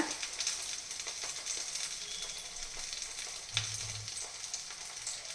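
Baby samosas fry in a pan over a medium-low flame, giving a steady, even sizzle of hot oil with faint crackles and one brief low thump partway through, no voices.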